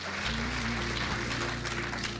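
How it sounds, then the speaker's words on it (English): Steady, dense applause from a pageant audience fills the room continuously with no break, joined by a sustained musical tone underneath. "another big round of applause for our 12 Queen's contestants"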